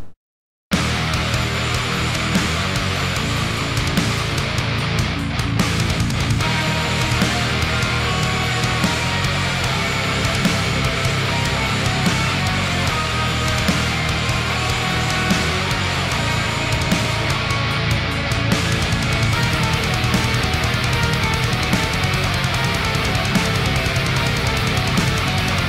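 A full mix of layered electric guitars, with rhythm, radio and solo tracks together, plays as a loud, dense, continuous wall of distorted sound for about twenty-five seconds without any talking.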